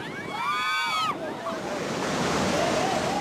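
Ocean waves from the 2004 tsunami surge ashore in a dense, continuous roar of rushing water and wind. A brief wavering, wailing tone rises over it at the start, then fades.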